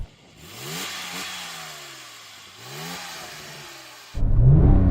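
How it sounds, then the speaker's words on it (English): A Porsche 911 Turbo of the 996 generation blips its engine twice, each rev rising and falling back, with a quiet whir between them, then an abrupt, much louder roar at the end. "Now I'm going to do the 996."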